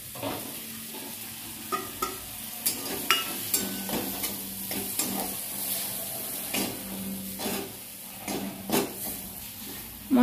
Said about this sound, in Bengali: টমেটোগুলো একটু হালকা নাড়াচাড়া করি, তারপরে মশলাগুলো দিয়ে দেবো।